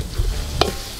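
Garlic, chili and onion frying in butter outdoors, stirred in the pan with a short scrape of the utensil amid a soft sizzle, brief and close.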